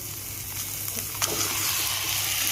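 Duck meat goes into hot oil with spices for an Assamese-style duck curry with ash gourd, producing a steady, close sizzle throughout with one brief clatter partway.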